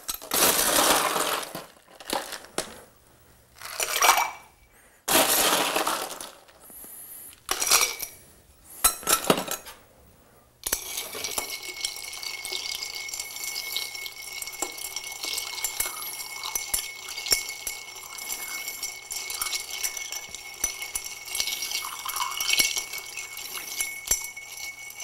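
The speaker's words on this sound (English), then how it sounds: "we're going to stir this rather than shake it." Clear cocktail with peach bitters stirred with ice in a glass, giving steady light clinking and rattling for most of the stretch after several louder bursts of sound near the start.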